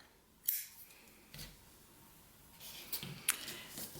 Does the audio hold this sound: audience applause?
no